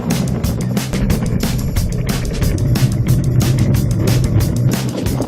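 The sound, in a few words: luge cart ride on track in Singapore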